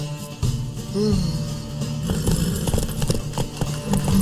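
Horse hooves clip-clopping in the video game The Witcher 3, a steady close trotting rhythm over a busy ambient game background, with a brief snort and light talk.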